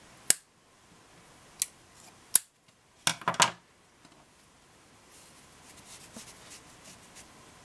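Scissors snip crochet yarn on a baby hat with a few sharp, close clicks spread over a few seconds, including a quick double cut, followed by faint rustling of yarn.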